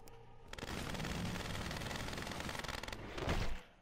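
Rapid bursts of gunfire from the Mortal Kombat X fighting game, a dense crackling volley running for about three seconds, swelling into a heavier blast near the end before cutting off.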